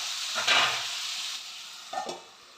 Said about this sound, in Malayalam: ഇതിലേക്ക് നമ്മൾ എടുത്ത് വെച്ച കറിവേപ്പില കൂടെ ഇളക്കി കൊടുക്കാം